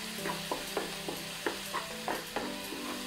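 Spices being stirred into small fish frying in a pan, with a sizzling oil background and repeated scraping stirs of the utensil at a steady, uneven rhythm, close and alone.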